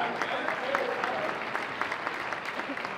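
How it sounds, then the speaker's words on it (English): A crowd applauds at the 2022 Mid-Florida Classic bodybuilding show in Orlando, steady dense clapping with cheers and a voice talking over it. "Let's give them a big round of applause"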